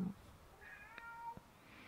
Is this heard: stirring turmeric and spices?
no